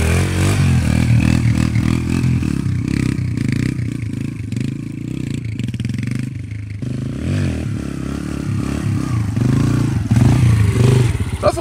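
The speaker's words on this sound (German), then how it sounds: "wie dieser Punkt, dieses Motorrad nach oben bekommen, funktioniert" A motorcycle engine revs and drones up close as the bike is lifted into a wheelie, with scraping and clattering mixed in and the engine note shifting throughout.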